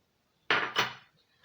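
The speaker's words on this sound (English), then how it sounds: "the first ingredient we'll be adding to our blender is our avocado" Avocado drops into a blender with two quick, close, hollow thuds, one right after the other, then silence.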